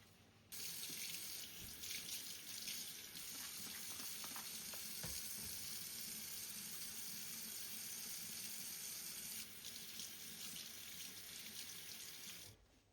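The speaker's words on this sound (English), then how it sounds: "before I give them a rinse and leave them to dry" Tap water runs steadily into a sink as car-detailing tyre dressing applicators are rinsed under it, a continuous close splashing with small clatters, no voices.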